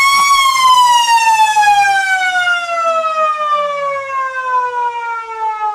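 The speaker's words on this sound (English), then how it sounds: "But the air raid siren has gone off." An air raid siren wails loud and close at a country football ground at the end of a reserves/league match, its tone sliding slowly downward as it winds down, with no talk over it.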